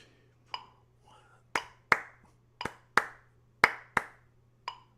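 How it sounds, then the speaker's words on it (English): Sharp hand claps fall in a syncopated triplet-feel pattern on beats 2 and 4 with their upbeats, nine distinct claps in pairs over a steady low hum, close and fairly quiet, with no talking. "I'm just clapping beat 2 and the upbeat after it, and beat 4 and the upbeat after it in a triplet feel"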